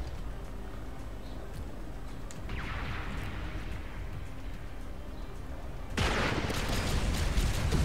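Robot vehicles trading gunfire in the Robocraft video game, a steady stream of shots and blasts that swells into a denser, louder burst near the end, with no talking.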